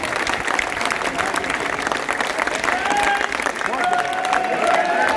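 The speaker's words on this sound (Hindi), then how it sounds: "तालियां कम रह गई है विदिशा की" Listeners at a Martyrs' Day patriotic poetry gathering in Vidisha clap continuously, a thick crowd applause with shouts and cheering voices rising over it.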